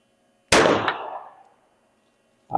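A Hi Point JHP .45 pistol fires one sharp, loud outdoor shot that echoes away, followed about two seconds later by the start of a second shot.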